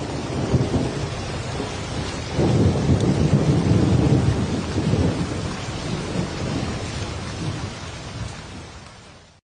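Heavy rain pours steadily while thunder rolls in, swelling loud partway through and slowly fading away, with no voices.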